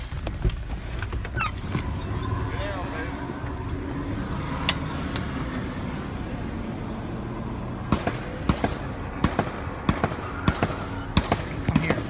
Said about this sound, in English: he's shooting at the cop